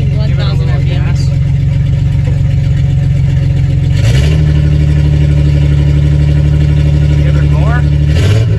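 A loud, steady turbocharged Datsun 280Z engine idles close by at about 1,000 RPM, its low rumble shifting slightly in pitch partway through while a voice speaks over it.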